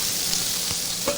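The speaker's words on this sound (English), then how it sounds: "you can hear the sizzling." Two kilos of vegetables sizzle and fry loudly in an iVario Pro commercial cooking unit, a steady close hiss with faint stirring scrapes and no talk.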